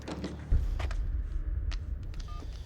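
A mobile phone keypad is pressed to check speed dial and redial, giving short electronic beeps and clicks over a low rumbling background with a thump near the start and no talk.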